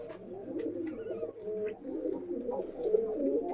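Several pigeons, including a male of a pair kept for sale, coo softly and continuously in low rolling calls, fairly faint and with no talk over them.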